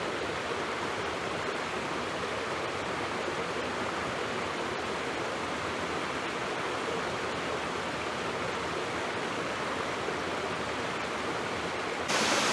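Water rushes continuously down a waterfall in the Fratarica gorge, a broad, even, fairly loud roar without pauses, brightening briefly at the very end, and nobody speaks.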